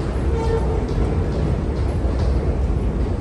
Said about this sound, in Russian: дорогие друзья, находимся на станции метро Самгорин.